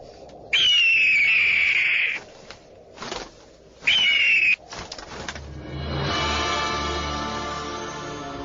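An eagle gives two loud, drawn-out screeching cries in a row, each falling slightly in pitch, followed by a rising, sustained tonal swell.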